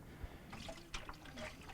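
Water poured through the drain tube of a Samsung refrigerator trickles and splashes faintly in a few soft, irregular bursts at close range.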